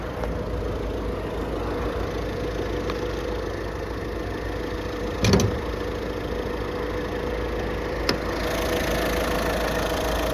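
A 2020 Citroen C4 Cactus engine idles steadily with a low, even rumble, briefly interrupted by a couple of light clicks and knocks.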